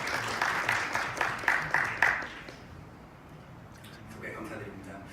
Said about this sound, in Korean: 발표를 해주실 이진수 대표님을 박수와 함께 소개드리겠습니다.